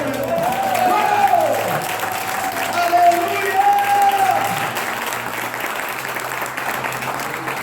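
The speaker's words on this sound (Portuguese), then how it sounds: "Se você quer, dê um forte aplauso." Church congregation applauding at a sermon, steady clapping and crowd noise throughout with a voice shouting and speaking over it.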